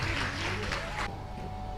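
A temple audience at a Hindu devotional discourse on Lord Narasimha claps loudly, a dense, sustained burst of applause that cuts off after about a second, with a faint low hum remaining.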